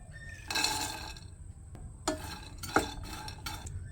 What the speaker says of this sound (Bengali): এটাকে ড্রাইভাবে একটু রোস্ট করে নিব